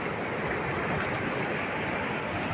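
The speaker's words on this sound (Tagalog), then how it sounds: "Ito yung dagat oh," Steady roar of ocean waves and surf, a broad continuous wash with some wind, no distinct breaks.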